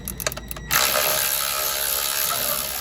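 A ratchet fitted with a 9mm socket on an extension, working bolts on a 2013 RAM 1500 engine: a quick run of sharp clicks, then a continuous close whirring rattle as it spins freely.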